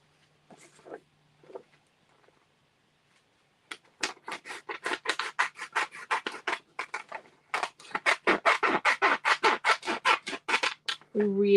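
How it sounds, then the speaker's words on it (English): Vellum sheet being cut during a papercraft scrapbooking session, with a dense run of close, rapid snipping and scratching strokes after a few faint taps and a quiet start. "I'm going to cut the middle out of the vellum."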